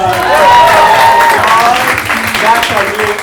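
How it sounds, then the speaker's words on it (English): Studio audience applauds a guest on a talk show, steady clapping throughout with a voice speaking over it. "keep that applause going for our next guest, Jake Lucas."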